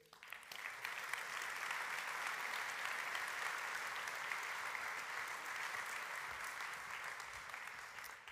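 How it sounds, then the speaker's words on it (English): A large conference audience in Basel, Switzerland applauds steadily, a dense, even clatter of clapping that holds at a constant level throughout. "Please welcome with an applause Professor Luciano Floridi."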